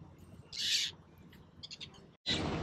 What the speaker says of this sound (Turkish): İsmi Forpus papağanı diye geçiyor.